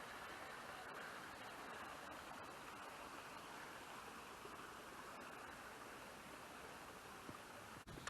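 A small brook flows along a hiking trail near Tockholes Plantation, a faint, even rushing of water that runs without a break, with no voices.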